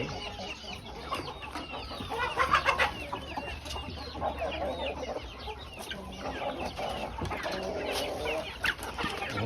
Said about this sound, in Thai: ไก่เยอะเลยนะครับ